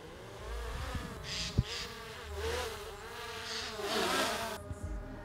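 A small drone flies outdoors, giving off a steady, fairly faint insect-like buzz whose pitch wavers up and down as it moves. A single sharp knock is heard partway through.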